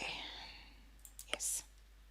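Several faint, sharp computer mouse clicks, quiet and close, spaced irregularly with a brief airy burst among them, set against a low hum and a soft breath at the start.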